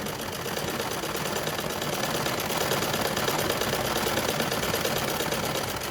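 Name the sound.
sewing machine stitching a plain seam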